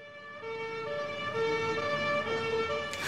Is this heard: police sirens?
yes